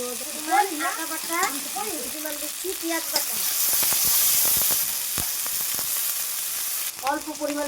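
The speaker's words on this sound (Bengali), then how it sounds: "জিরাটা চিরবিরিয়ে ফুটে উঠলে দিয়ে দিচ্ছি আন্দাজ মতো কাঁচা লঙ্কা বাটা" Cumin seeds and green chili paste frying in hot oil for a fish curry, giving a bright, loud sizzling hiss that swells in the middle. A voice talks over the start and end.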